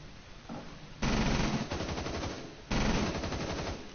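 Rapid automatic gunfire in the tactical shooter Rainbow Six, two loud sustained bursts of repeated shots with a quieter stretch between them, no talking.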